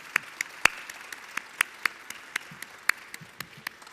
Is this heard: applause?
yes